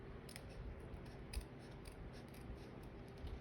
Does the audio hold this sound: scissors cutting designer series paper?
yes